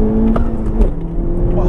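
A 2017 Honda Civic Type R with turbo accelerating hard, its engine revving loud and close through the gears with a brief dip at a shift, while someone talks over it.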